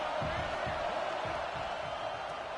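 A college football stadium crowd against Michigan roars in a steady, distant wash of cheering and noise, with no distinct voices standing out.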